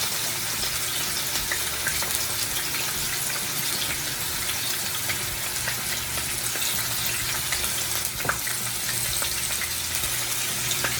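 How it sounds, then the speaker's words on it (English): Pot roast meat searing in a hot pan, a steady dense sizzle hissing continuously at close range with no talk over it. "over here I'm continuing to sear"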